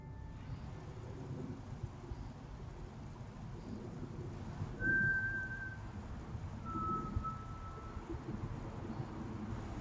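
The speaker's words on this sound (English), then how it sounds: "First, an eerie whistle rings out" An eerie, thin whistle captured by a trail camera in a remote outdoor spot, two brief tones a couple of seconds apart over a steady hiss of wind and low rumble, with no voices.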